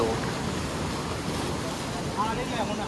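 Sea waves wash and splash against rocky cliffs near Ratneshwar Mahadev temple in a broad, steady roar, mixed with wind rumble; a voice is heard faintly near the end.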